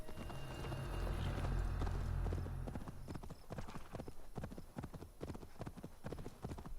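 Horse hooves clip-clop at a steady walking rhythm in the Assassin's Creed Valhalla video game, moderately close and continuous, with a low rumble of game ambience underneath.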